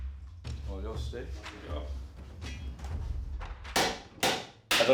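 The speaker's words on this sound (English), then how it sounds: "a kind of tinny crash sound, but then you're also getting a nice dull thud sound" Quiet murmuring and shuffling give way to three sharp hammer blows on metal near the end, each a hard ringing hit.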